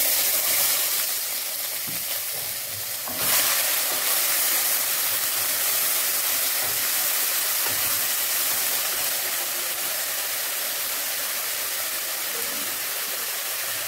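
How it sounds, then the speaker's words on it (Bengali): Onion paste hits hot oil and sizzles with a dense, continuous rushing hiss. A brief burst flares near the start, and the sizzle then settles into a steady roar that fills the whole stretch. "ভাজা গন্ধ বেরিয়ে গেছে, এবার পেঁয়াজ বাটাটা দিয়ে দেব"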